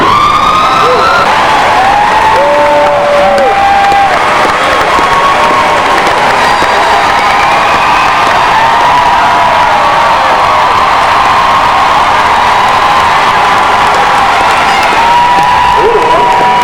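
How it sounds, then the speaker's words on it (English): Large crowd at a 2018 high school graduation ceremony giving sustained loud applause and cheering, with whistles piercing through the continuous clapping. "one more huge round of applause for the class of 2018."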